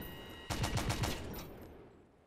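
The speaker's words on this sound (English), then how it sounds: "You can hear the autoloader, it'll just keep cycling," The autoloader of a tank in the game Stormworks cycles with no ammunition left: a burst of quick mechanical clacks at a moderate level, fading into a low rumble.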